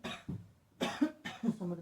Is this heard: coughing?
yes